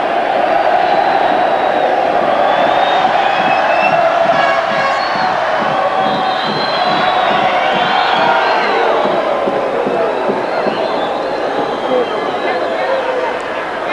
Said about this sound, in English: that's got the crowd excited now, or at least the Colombian contingent